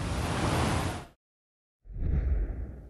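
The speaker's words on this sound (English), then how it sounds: "The City Creek Cascades tumble and meander through City Creek Center" Water from the City Creek Cascades, a man-made boulder waterfall running through a downtown mall, rushes loud and close, cuts out abruptly into silence, then resumes as a roaring flow.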